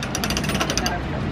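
A hand crank on a machine is turned in a quick run of regular mechanical clicks and clunks, close by, over about a second with background crowd noise.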